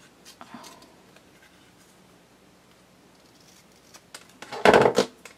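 Scissors snip little points into a paper banner for a Father's Day card, giving soft scattered cuts and rustles, then a louder burst of crisp snipping near the end.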